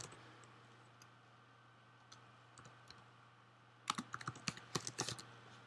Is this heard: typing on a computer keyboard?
yes